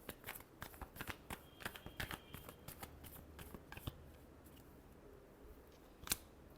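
Tarot cards are shuffled by hand in quick, crisp riffles and taps, close and fairly quiet, ending with a single sharper snap.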